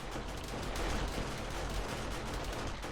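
Auto turrets firing at a horde of zombies in the video game 7 Days to Die, a dense continuous rattle of rapid gunfire with no breaks, steady and fairly loud.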